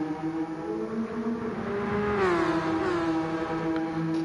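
GT3 race car engines in a racing video game at the Interlagos circuit, a steady droning engine note that rises into a sweeping rev around the midpoint, close and continuous with no talk.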